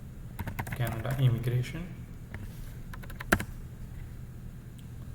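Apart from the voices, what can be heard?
typing on a computer keyboard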